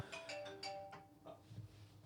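A nursery's office phone rings at a garden center, a repeating electronic trill with several bright pulses in the first second, then fading tones with faint background noise.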